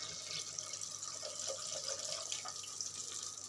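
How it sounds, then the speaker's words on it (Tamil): Soaked tamarind, dissolved in water, is poured into a pan for a fish curry, giving a soft steady trickling and splashing of liquid, fairly quiet and continuous with no talk. "நம்ம எடுத்து வச்ச புளி ஊற வச்சோம் இல்லையா அதை கரைச்சி வச்சுருக்கோம் புளிக்கரிசியில் ஊற்றிக்கிறோம்"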